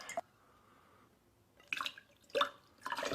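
Water falls out of a container with tiny holes in a few separate splashy bursts with short quiet gaps between them, close but faint.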